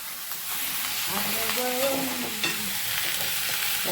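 Coriander leaves sauté in a pan, producing a steady bright sizzle and frying crackle with a few stirring scrapes, close and continuous for the whole stretch without speech.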